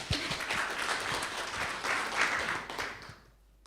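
An audience at a startup training event in Dnipro claps for several seconds, a steady wash of hands that fades out abruptly at the end.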